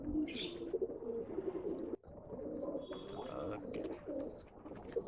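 Rekdhar pigeons coo and chirp in a busy bird sales setting, with low cooing running throughout and sharper chirps and tweets layered over it, while people talk in the background.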